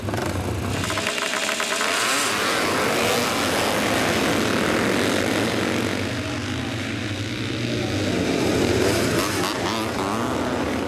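Pre-1965 vintage motocross motorcycles from makers such as Norton, BSA and Villiers race together, a loud sustained roar of several engines revving and passing close throughout.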